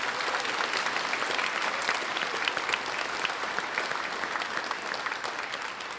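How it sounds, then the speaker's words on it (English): An audience applauds a middle school band at a Veteran's Day program, with dense, steady clapping that holds for about six seconds and then tapers slightly. No one speaks over it. "One more round of applause for our music today."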